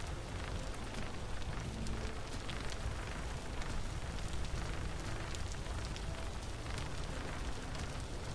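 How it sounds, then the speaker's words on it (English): Steady, dense rain pours in a Minecraft modpack world while a hot-air balloon flies through it, a constant hiss of drops with faint crackling texture and no talking. "The balloon doesn't stop any of the rain."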